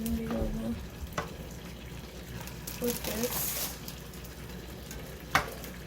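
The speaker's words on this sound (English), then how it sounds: "So we're gonna spread some butter over the pan." Butter sizzling and frying on a hot pan while naan cooks, a steady low crackle running under a woman's speech, with a few brief clinks from utensils.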